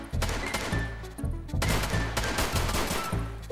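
Dense bursts of rapid gunfire from a firefight in Escape From Tarkov, loud and close, in two long volleys with a brief gap between them and no talk.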